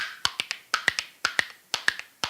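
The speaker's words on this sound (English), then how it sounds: "if you tap your leg just with the tip of the spoon, you get a very light sound" Light, crisp taps of spoon tips on a leg played in a quick repeating rhythm, clusters of sharp clicks with accents recurring steadily, close and clear with no voices.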